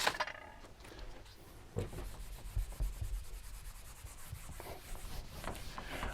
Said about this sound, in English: So I'm going to erase this